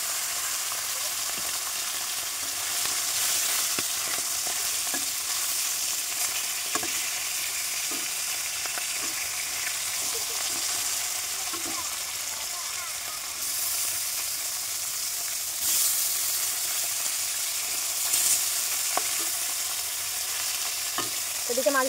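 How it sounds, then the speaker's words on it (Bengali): Fish rubbed with salt and turmeric fries in a pan, giving a steady soft sizzle with occasional stirring clicks and scrapes throughout. "তো মাছটা ভালো করে ভেজে নেব।"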